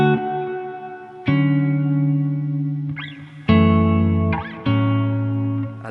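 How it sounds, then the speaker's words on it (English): Electric guitar through a plain reverb on a Line 6 Helix: a few sustained chords and single notes ring out with a smooth decaying tail, clear and upfront with no talking. "it will basically be just a normal reverb."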